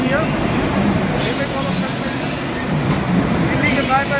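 Wheels of the departing Magadh Express squeal in sharp, shifting high-pitched tones over a steady rail rumble, the screech cutting in and out close by.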